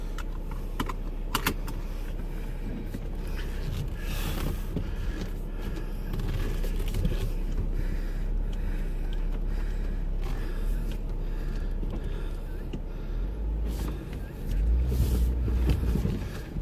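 A Jeep crawls off-road along the Holcomb Creek trail, its engine a low rumble beneath rattles, knocks and creaks from the cabin, with occasional heavier thumps over rough ground.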